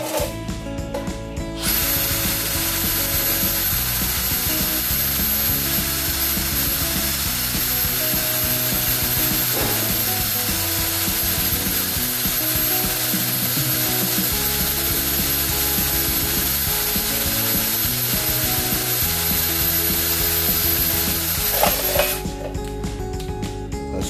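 A Bosch GSB18V-535C brushless cordless drill bores with a metal drill bit in one loud, steady, close whine lasting about twenty seconds, with small shifts in pitch as it cuts, then stops.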